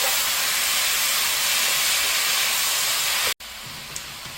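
Seasoning stir-fried in a pan before sundae, Korean blood sausage, goes in: a continuous close sizzle and hiss that cuts off sharply near the end, leaving a quieter hiss with a faint clink, and no talking.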